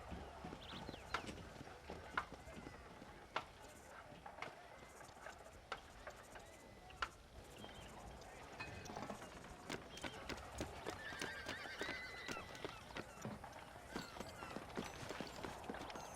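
In the video game Red Dead Redemption, horses clip-clop with scattered hoof strikes and occasional neighs on a town street beside a building, moderately distant and quiet under ambient game sound.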